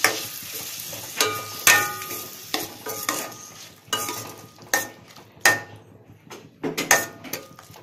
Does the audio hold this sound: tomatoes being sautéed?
yes